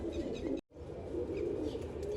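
Pigeons cooing softly in a low, steady murmur, with faint chirps above and a brief cut partway through.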